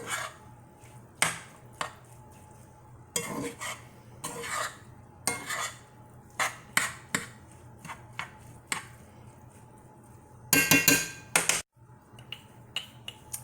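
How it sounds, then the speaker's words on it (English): Tofu scramble with turmeric stirred in a pan, with a utensil scraping and clicking in a loose, irregular rhythm of short close knocks, plus a brief burst of busier rattling near the end. "And then you're just going to give that a good stir."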